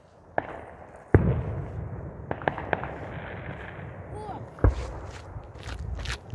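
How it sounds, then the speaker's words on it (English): Fireworks go off outdoors at night: a series of sharp cracks and pops, one large bang near the start and crackling bursts later, heard over faint background voices. "There's more fireworks?"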